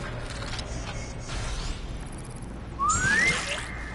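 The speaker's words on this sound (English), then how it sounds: "It was so taken aback by that whistle." A sudden rising whistle in a robot dinosaur video game, a single bright upward-gliding tone near the end that cuts through a steady background of game ambience.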